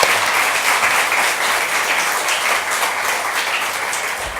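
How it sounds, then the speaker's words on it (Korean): Congregation applause welcoming a speaker at a Korean church service, a steady dense wash of many hands clapping that holds evenly throughout. "우리 박수로 환영하겠습니다."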